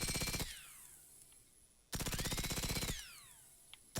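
Two long bursts of rapid automatic gunfire in the video game Generation Zero, loud and close, each with a fast rattling rhythm followed by descending whining tones and a quieter gap between them.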